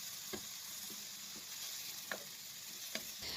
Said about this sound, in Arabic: الان كنضيف التونه وكنشحرها مزيان مع البصله